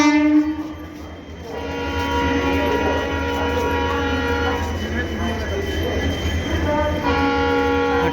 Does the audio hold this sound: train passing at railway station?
yes